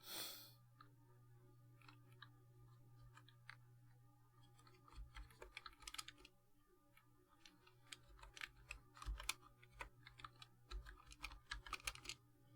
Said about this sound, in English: I'm still typing on the wrong one